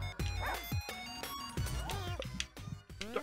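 Small yappy barks from a poodle in the Russian Subway Dogs video game, a few short yips spread across a busy game soundtrack of chimes and effects, with someone talking over parts of it.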